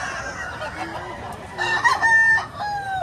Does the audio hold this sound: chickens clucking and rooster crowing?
yes